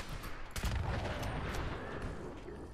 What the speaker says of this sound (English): Someone's shooting lasers